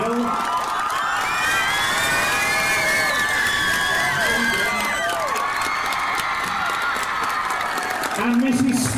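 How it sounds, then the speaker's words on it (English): A school audience claps and cheers continuously for a house teacher, with high-pitched children's shouts and whoops ringing over dense applause, loud and close throughout. "So can we have a big round of applause,"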